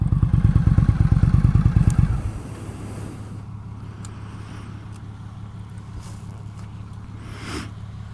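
A 2019 Indian Scout Bobber motorcycle engine rumbles loud and close with a rapid throbbing beat for about two seconds, then drops to a steady low idle hum with faint clicks.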